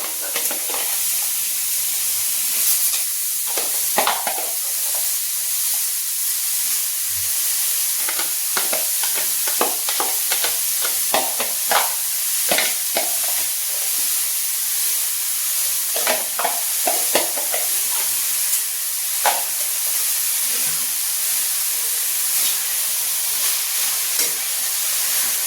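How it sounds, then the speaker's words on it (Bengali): Chopped onion and tomato sizzle in a pan with chicken for a zero-oil chicken curry, a steady bright hiss broken by frequent scraping stirs, close and continuous without talk. "এরপর আমি দিয়ে দিচ্ছি পেঁয়াজ আর টমেটো কুচি"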